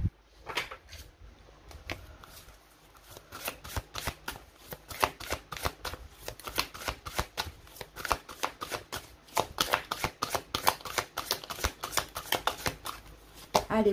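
Oracle cards being shuffled by hand, a long run of rapid papery riffles and flicks close up, steady and busy with no talk.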